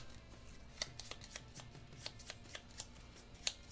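Quiet riffling of Tiny Epic Tactics board game cards being shuffled, a series of soft papery flicks and snaps at close range.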